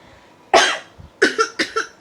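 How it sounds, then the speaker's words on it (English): A coughing fit from one person: a single harsh cough, a short pause, then a rapid burst of four or five close, loud coughs in quick succession. "I just had a cough attack"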